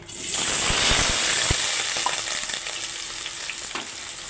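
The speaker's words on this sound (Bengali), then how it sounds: "এখন আমি আলুগুলো ভেজে নিচ্ছি" Potatoes hit hot oil in a wok and sizzle loudly, with a few stirring clicks early on; the frying settles into a steady crackle.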